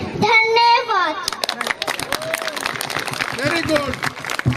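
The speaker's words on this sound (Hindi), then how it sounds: "तालियां बजाते रहे, बच्ची का प्रोत्साहन करते रहे।" At a carnival event, a voice is followed by a burst of audience applause, steady clapping that carries on under a speaker talking.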